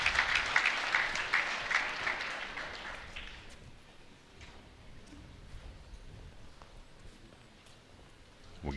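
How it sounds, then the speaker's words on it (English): Crowd cheering and clapping at an archery shoot during a shootdown at a winter classic tournament, a loud burst at the start that fades over several seconds into quiet background murmur, with a faint clatter near the end. "And there's a cheer from the crowd."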